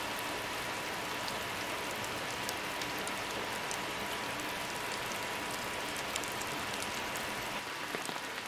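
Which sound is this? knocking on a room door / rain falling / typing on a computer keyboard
rain falling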